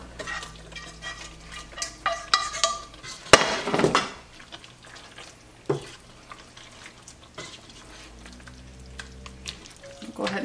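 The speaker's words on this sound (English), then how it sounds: "I'm actually going to go ahead and add our shrimp in." Shrimp going into a frying pan of pasta sauce, with sizzling, a burst of clattering and stirring up close, and scattered kitchen knocks afterward.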